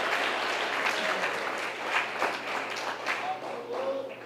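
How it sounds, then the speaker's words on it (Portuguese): Church congregation clapping together during a worship service, a sustained wash of many hands applauding in a large room, with a little voice and a low steady hum underneath. "você pode então dar a melhor salva de palmas"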